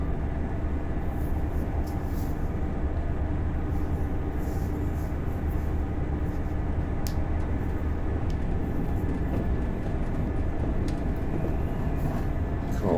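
A GWR Class 800 train in the Train Sim World 5 video game, with a continuous loud cab rumble and rattle as it runs over points, steady throughout with faint high clicks above.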